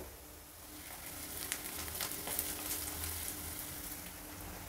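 Onion and garlic fry in a pan with turmeric powder, giving a steady close sizzle with soft crackles and stirring scrapes throughout.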